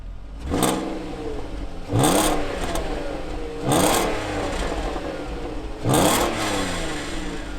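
An Audi A3 with a VR6 engine and stock exhaust revs repeatedly, four sharp throttle blips rising and falling over a steady idle, close and fairly loud with no talking.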